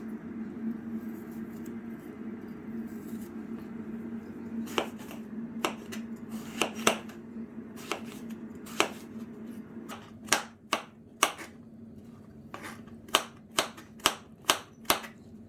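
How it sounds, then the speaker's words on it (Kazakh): Apple being cut into pieces for a salad with a knife on a board, a steady run of sharp chopping taps that grow quicker and more regular toward the end, over a low hum. "Бірінші алмамызды турап аламыз."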